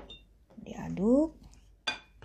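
Flour batter stirred in a bowl for crispy chicken sempol, with a few soft utensil clinks and one sharper clink near the end, alongside a brief voiced sound.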